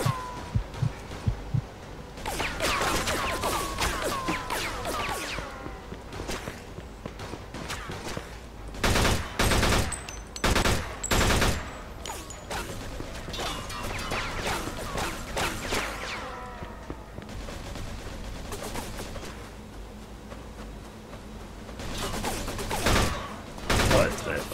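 Bursts of gunfire from the Mafia 2 video game in a Hong Kong mission, crackling in rapid volleys and single loud shots across the stretch, with a voice talking over parts of it.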